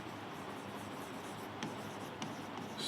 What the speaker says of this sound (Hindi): अब देखो मैं आपको तीन ट्रांजेक्शन्स लिखता हूँ